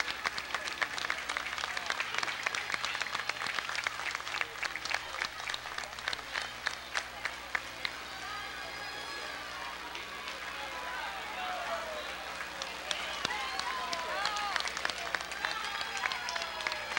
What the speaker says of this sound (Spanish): continuamos con los aplausos en este desfile también de los Jeeps